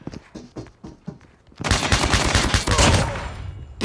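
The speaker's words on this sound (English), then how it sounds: "Let's try some pistol damage now." Pistol fire in Call of Duty: a few sparse sharp shots give way to a dense, loud barrage of rapid gunfire that keeps going to the end, with no talk over it.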